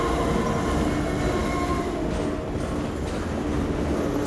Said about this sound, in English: There is a train above us.